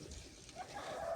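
Hens, Adler Silver and Leghorn birds, make faint short clucking sounds in a brief, quiet moment with no voices.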